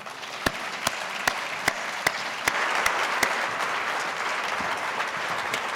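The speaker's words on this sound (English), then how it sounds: "Please, a round of applause for Jay Billis and Oliver Luck" A debate audience applauds the two speakers, a dense, sustained wash of clapping with several sharp, evenly spaced claps ringing out near the front early on.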